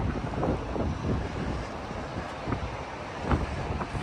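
Strong wind buffets the microphone in a continuous low roar, rising and falling in gusts with no voices, up on the High Line in New York City.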